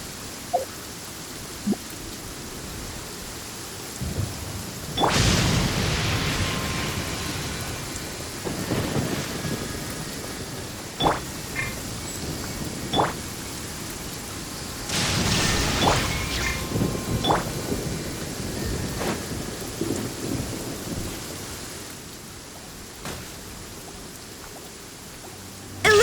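Thunder rumbles and lightning cracks in Genshin Impact, two big booming strikes a few seconds apart over steady rain and smaller crackles, loud and close.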